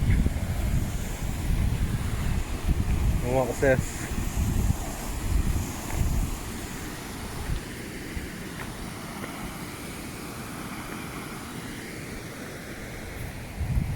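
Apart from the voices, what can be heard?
wind and waterfall at paper mill ruins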